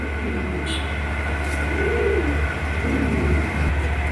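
Domestic pigeons offered for sale coo in soft, low repeated phrases against a steady hum of background noise; the calls are moderately close and run with no talk over them.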